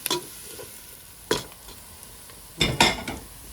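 Onions and turmeric frying in a pan for Punjabi aloo baingan, a quiet sizzle broken by three bursts of spoon scraping and stirring, the last one longest, no talking.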